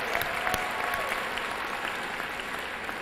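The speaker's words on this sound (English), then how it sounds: "Let's give them a round of applause." A crowd at a basketball event applauds the cheerleaders: dense, steady clapping from many hands that holds at an even, loud level for the whole stretch, with no voices standing out.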